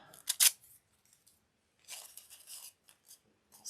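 Scissors snipping through squares of paper or tissue for a glue craft, a quick burst of close, crisp cuts, a pause, then another run of cutting.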